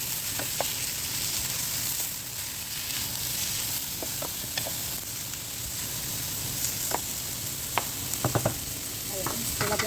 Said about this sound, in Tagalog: so ilalagay na natin yung ating chicken breast